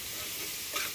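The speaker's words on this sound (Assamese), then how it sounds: "মই ভাজি নিম যিহেতু গাহৰি মাংসটোৰ পৰা তেল ওলাই তেলতে ভজা হৈ যাব" Pork fries in its own rendered fat with cumin, coriander, turmeric, salt and red chilli, a soft, steady sizzle with a brief brighter crackle near the end, quiet and with no voices.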